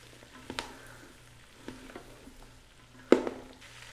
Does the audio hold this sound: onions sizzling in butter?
yes